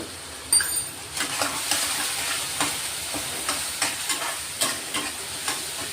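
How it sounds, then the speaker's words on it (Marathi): Onions with a pinch of asafoetida are sautéed in a pan, a soft sizzle under repeated rhythmic scraping strokes of a spatula stirring them, close and fairly quiet. "छान मस्त गुलाबी रंग येईपर्यंत कांदे परतून घ्यायचे"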